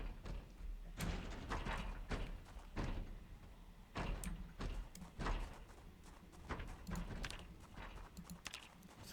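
Heavy banging on a door in the Project Zomboid video game, many loud irregular thumps and slams in rapid clusters, continuing throughout without pause.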